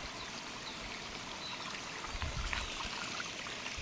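Water streams and splashes steadily from a hose or pour onto garden plants such as pomegranate and lemon, a close continuous trickling rush with slightly heavier gushes midway.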